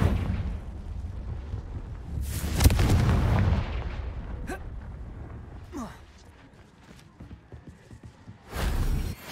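The Confringo explosive spell in Hogwarts Legacy sets off a heavy rumbling blast that swells and fades over a few seconds. Softer game sounds and a second booming burst follow near the end.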